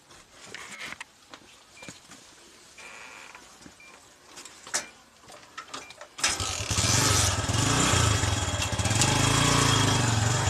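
A motorcycle engine is kicked and cranked with scattered mechanical clicks and thumps, then catches around the six-second mark and settles into a loud, steady running rumble close by.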